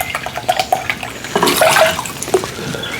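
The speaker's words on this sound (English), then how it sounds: "I need 1 cup of water. Just put it in a pan" Water poured into a pan in a home kitchen while making syrup for peach liqueur, a close, splashing trickle that swells briefly midway and then tapers off, with no voices.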